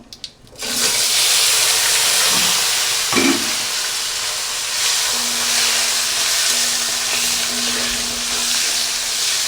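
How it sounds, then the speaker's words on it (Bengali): Boiled potatoes hit hot oil after a couple of clatters and a loud, continuous sizzle follows, steady and close, with a few soft scrapes along the way. "এবার দিয়ে দেবো আমি আলুগুলো আলুগুলো ভেজে নেবো"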